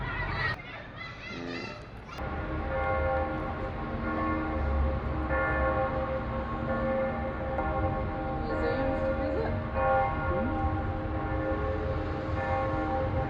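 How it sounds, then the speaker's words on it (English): Church bells ring out at noon near the Munich Residenz, sustained layered tolls overlapping into a continuous resonant chime that fills the space, moderately loud and steady after a brief quieter start. "The bells are ringing, it's 12 o'clock."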